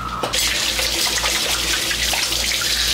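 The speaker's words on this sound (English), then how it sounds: "Gotta wash my hands now." Close, steady gush of tap water running into a sink during handwashing, starting abruptly and continuing loud and unbroken.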